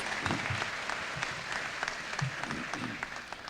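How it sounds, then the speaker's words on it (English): A room full of people applauds defense and aerospace industry workers at an appreciation day held in a facility. The dense, steady clapping sounds fairly faint and distant and runs throughout. "So let's give these guys a round of applause for being here"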